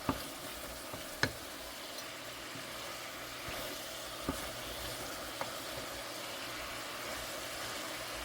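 Hamburger meat fries in a pan as its fat renders, giving a steady, soft crackle with a few sharp clicks and knocks of utensils. No one speaks.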